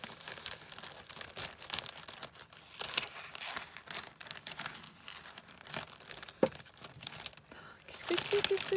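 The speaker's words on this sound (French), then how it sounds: "il y a le papier bulle" Crinkling and crumpling of plastic bubble wrap with soft tearing as a parcel is unwrapped up close in bursts, with a voice speaking at times.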